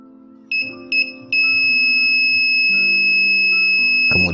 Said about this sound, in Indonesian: Perhatikan, LED mati ketika buzzer bersuara.